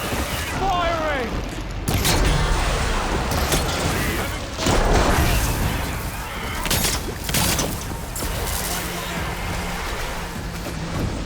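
Weapons fire in Horizon Forbidden West, dense booming blasts and mechanical clatter over a steady rumbling battle bed, with heavier bursts near two and five seconds and a voice calling out amid the din.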